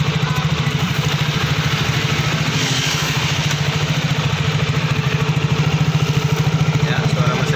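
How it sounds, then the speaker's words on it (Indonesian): A motorcycle engine idles smoothly after a gasket and cylinder block replacement at a repair workshop, giving a close, even, rapid putter that stays steady throughout. "Ya, suara mesinnya sudah halus guys."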